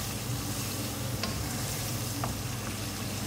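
Spice masala for aloo mutton frying in oil, a steady close sizzle with a couple of faint spoon scrapes as it is stirred, no voices.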